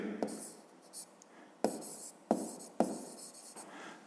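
A pen writes on paper during a fifth-grade maths lesson, making soft scratchy strokes in several short bursts with sharper taps between them, quiet and close.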